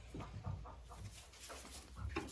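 A hen sitting in her nest gives a few soft, short clucks, close by and quiet, with no one talking.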